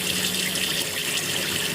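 Cold water runs hard from a kitchen tap into a pot of boiled eggs, a continuous loud hissing gush with no pauses and nobody talking.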